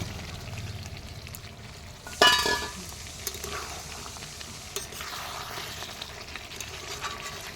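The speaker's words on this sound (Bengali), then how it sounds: "আর এরপর দিয়ে দিচ্ছি ভেজে রাখা আলু" Fried potatoes drop into a desi chicken curry cooking over a clay stove, giving a sudden loud sizzle that settles into a steady low bubbling hiss.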